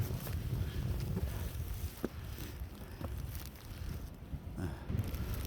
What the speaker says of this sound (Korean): 이제 바람이 너무 많이 불어요